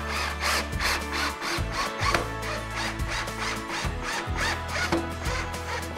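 Power drill driving a screw into a pocket hole joint in a DIY kitchen island board, rapid bursts of whirring and ratcheting that stop and start in short pulses.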